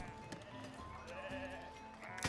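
Sheep bleat several times in the video game Foundation, quiet wavering calls that overlap over a soft background, with no one talking.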